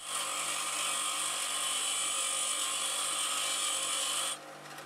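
A lathe tool bit being ground on a grinding wheel gives a steady high-pitched whine and hiss that holds continuously for several seconds, then stops abruptly near the end, leaving faint background noise.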